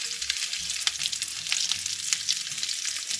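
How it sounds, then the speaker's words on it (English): Piero's broccoli burgers frying in a pan, a bright continuous close sizzle with fine crackling spatters and occasional sharper pops, no voices. "Okay, you fried all your burgers."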